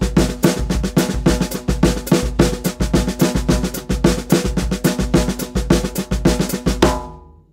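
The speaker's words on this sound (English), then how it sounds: "Let's try a single paradiddle, double paradiddle, triple paradiddle." Drum kit playing single, double and triple paradiddles on the snare over a repeating bass drum foot ostinato, crisp, loud and close, a steady rhythmic stream of strokes that stops abruptly near the end and rings out briefly.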